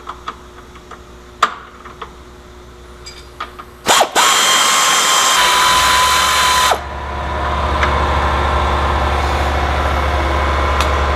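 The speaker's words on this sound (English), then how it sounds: "I'll use my air ratchet again to get these off." Air ratchet loosening bolts on the rear A-arms of a Polaris RZR, a loud burst of whirring rattle after a few clicks, followed by an air compressor droning on in the background.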